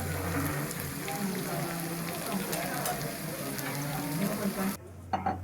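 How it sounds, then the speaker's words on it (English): Horumon offal sizzling and being stirred on a tabletop gas grill in a Japanese restaurant, a steady dense crackling fry close by, cutting off near the end. "It takes a bit of time to get it sizzling"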